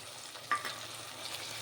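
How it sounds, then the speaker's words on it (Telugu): Onion, ginger and garlic paste frying in a pan, a faint steady sizzle with a brief stirring scrape partway through. "ఉల్లిపాయ అల్లం వెల్లుల్లి పేస్ట్ బాగా ఫ్రై అయిపోయింది కదండి"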